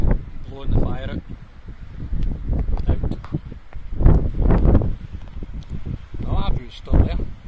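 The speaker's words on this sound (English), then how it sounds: "The wind has literally blown the fire out." Strong wind gusts buffet a lavvu tent on a windy day, rumbling and flapping in uneven surges close to the microphone, with a person talking through much of it.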